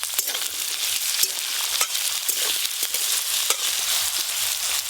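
Cut olive potatoes sizzle steadily in hot oil with whole cumin, dry chili and bay leaf, a close, continuous crackle with occasional sharper pops and no voices.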